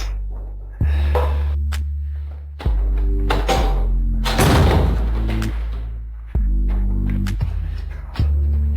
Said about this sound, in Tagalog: isara mo ang pinto